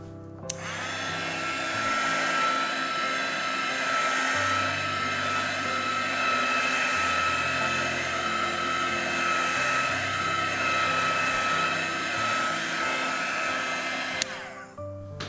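A heat gun blows a steady, loud hot-air roar over colored epoxy resin in an ocean-wave tray, running continuously for about fourteen seconds with a slight shifting hum underneath, then clicking off.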